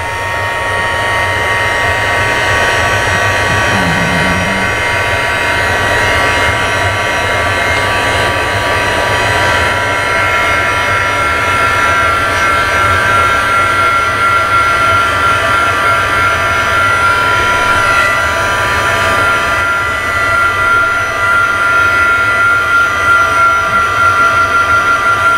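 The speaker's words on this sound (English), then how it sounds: "I'm going to move my color a little bit with my heat tool." Heat tool blowing over ink on a card for blended-marker and isopropyl alcohol backgrounds, a loud continuous whirring hum with a steady high whine throughout, alone and without talk.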